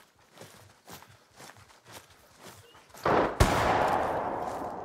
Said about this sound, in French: tu tires avec le canon, donc on a le son du canon quand tu tires